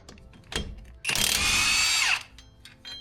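A power tool runs in one loud, sustained burst of about a second as it removes a wheel bearing bolt on a small Toyota car, then spins down, framed by brief clanks and handling noises close by.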